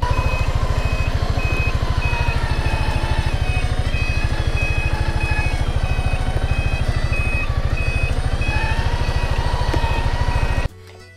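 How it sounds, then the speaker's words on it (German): A 2021 Piaggio MP3 Sport scooter reversing sounds a rapid, loud, evenly spaced warning beep over a steady engine hum, which stops abruptly just before the end. "über den Startknopf kann ich das Fahrzeug quasi rückwärts bewegen. Also es hört auch jeder, dass ich rückwärts fahren will."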